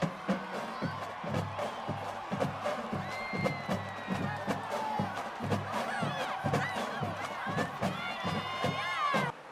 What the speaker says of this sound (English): everyone cheering and clapping